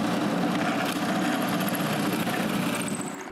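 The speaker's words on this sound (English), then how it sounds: "I begin by drilling a 1/4-inch hole through the base." A power drill bores a 1/4-inch hole through a wooden camera baseplate, a continuous whirring drone held steady at close range with no talking.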